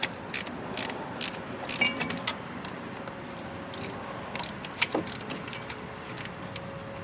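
Ratchet clicks from a wrench tightening the banjo bolt on a brake line at a car's brake caliper, several short bursts of close, moderately loud clicking with faint workshop background.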